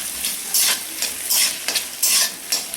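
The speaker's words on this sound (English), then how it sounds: "Once the ghee has melted, I'm going to add in the onions." Onions sizzle in melted ghee in a hot pan, with rhythmic bursts of stirring scrapes roughly every half second over a steady frying hiss.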